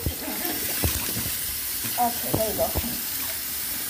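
A cartoon character washes a snail's shell with soap and running water, the faucet giving a steady hiss throughout while a voice speaks briefly over it.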